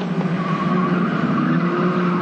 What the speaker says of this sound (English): Listen to the tyres squeal as they stream through here.